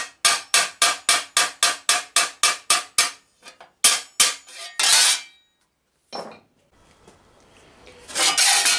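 Steel armour plate for a medieval thigh piece struck on an anvil: a fast, regular run of about a dozen sharp, ringing close hammer blows, then scattered hits and scraping and rubbing sounds, no speech.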